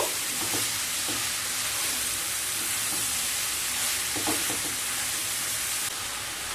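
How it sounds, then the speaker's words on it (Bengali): Grated papaya being stirred and mixed in a hot pan for a vegetarian Bengali papaya dish, a continuous loud sizzle broken by repeated scraping strokes of a spatula. "গ্রেটেড পেঁপে দিয়ে দেব। পেঁপে দিয়ে খুব ভালোভাবে মিশিয়ে নেব।"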